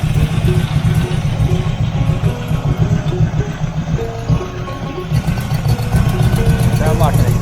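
A Chevy 283 V8 with headers runs steadily at idle, with a rough, ticking exhaust leak pulsing through its low rumble, close and loud throughout, while someone talks over it.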